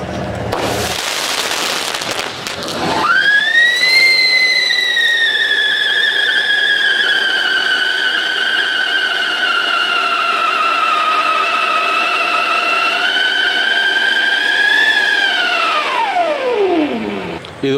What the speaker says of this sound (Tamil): விசில் அடிக்கும், ஒரே குழாய் பைப்பில் விசில் அடித்து முடிச்சப்பறம் ஒரு பவுண்டன், பவுண்டன் முடிஞ்சப்பறம் மேலே போய் ஒரு அவுட்டு வெளியே வரும்